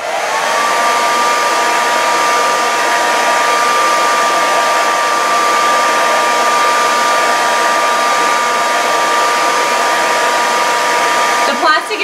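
A heat gun or hair dryer runs loud and steady on its highest heat and fan setting, held close to soften a plastic muzzle, giving a continuous whooshing roar with a faint whine that ends abruptly.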